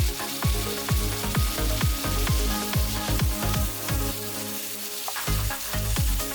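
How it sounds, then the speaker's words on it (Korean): Thin-sliced pork belly frying with chopped green onion and mushrooms in a pan, a steady loud sizzle broken by repeated sharp scrapes and clacks of stirring at an uneven rhythm, close up with no voices. "삼겹살이 반쯤 익으면 썰어둔 대파와 버섯을 넣고 삼겹살이 완전히 익을 때까지 볶아줍니다"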